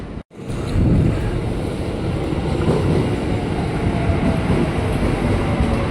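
A KRL commuter train arriving at Juanda station, an outdoor rail platform, rumbling loud and close after a brief cut at the start, with a heavy, continuous roar of wheels and carriages that stays steady to the end.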